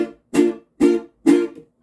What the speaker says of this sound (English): I'm pushing my fingers in as I strum, but then I'm immediately lifting them up a little bit so I get that mute sound.